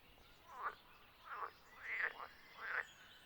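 A frog croaks four times in a slow, even rhythm, each call a short rising chirp that stands clear of a faint, steady background hiss. No one speaks.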